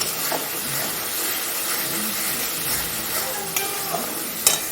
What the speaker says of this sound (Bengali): চিকেনটা করবো কষাচ্ছি